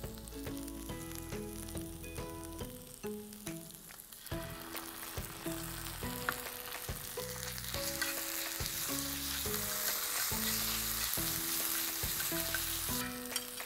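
Quail with ginger garlic paste fries in a pan, a steady close sizzle with stirring scrapes throughout. Music plays underneath and no one speaks.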